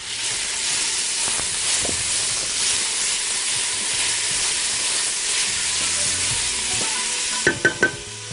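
Chopped onion sizzling steadily in two spoonfuls of baladi ghee in a pan, a constant close hiss with a few soft clinks near the end and no voices.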